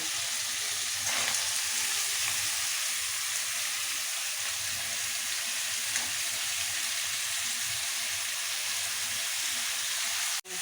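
Vegetables tossed into hot oil tempered with black cumin sizzle and fry steadily for a Bengali prawn-stem chochhori, a constant hiss close by with a few stirring scrapes.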